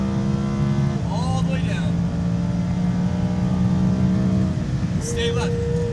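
Lamborghini Huracan accelerating hard on a race track, a steady loud engine drone rising in pitch with an upshift partway through, under a voice talking over it.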